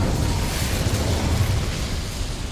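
An Incendio fire spell cast in the Hogwarts Legacy game produces a loud, sustained roaring whoosh of flame, dense and broadband, holding steady throughout without pauses.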